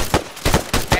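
Rapid gunfire in the military shooter Arma 3: three loud, close bursts in quick succession, each a dense crackling volley, with no voices over them.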